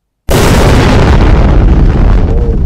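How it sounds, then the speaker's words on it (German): An AI-generated explosion sound effect, made from a simple one-word prompt, bursts in after a brief silence as a loud, close boom and then rumbles and decays over about two seconds. "Ich kann natürlich nur eingeben Explosion, also Explosion."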